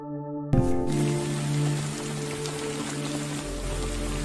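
Steady rain patters across a surface as someone walks alone through it, a broad hiss running the whole time beneath sustained musical tones.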